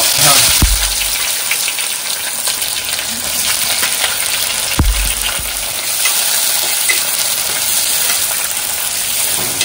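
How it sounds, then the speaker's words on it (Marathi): Onions frying in a pan as part of Malvani prawn rice, a loud continuous close sizzle with stirring noise and a couple of dull knocks against the pan. "कांदो मस्त काळपट करून भाजायचं. फ्राय करून बाजू काढून ठेवले."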